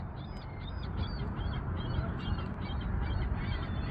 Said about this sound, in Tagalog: Geese yata.